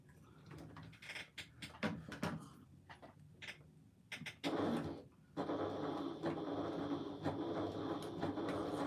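A sewing machine stitches a seam with back stitches to lock the threads, starting with scattered soft clicks and handling noises, then settling into a steady, continuous mechanical whirr that runs close and moderately loud to the end.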